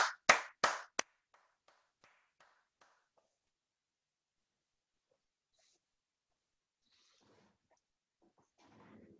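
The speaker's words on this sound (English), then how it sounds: "So everybody get up and give him a round of applause." A few people clap for a new Toastmaster during a virtual club meeting, starting with loud sharp claps that quickly dwindle to scattered faint ones, then near silence with soft rustling noises at the end.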